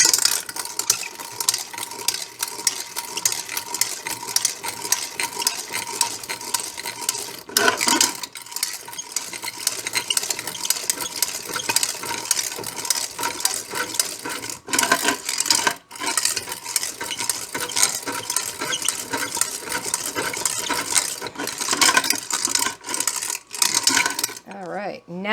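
Juicer rattling loudly while juicing blueberries, a continuous harsh clatter and grinding that runs almost unbroken with a few brief dips, close and dominant.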